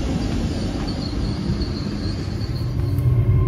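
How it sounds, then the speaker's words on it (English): A train pulls into a station on the Cotswolds Line toward Kingham, a loud continuous rumble of wheels and engine filling the clip, with a faint high squeal above it and no talking. "Here comes the train, which is going to take us to the final station that I'm doing today"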